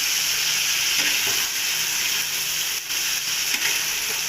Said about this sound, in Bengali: চিনি মশলা দিয়ে আমি ভালো করে কষিয়ে নেবো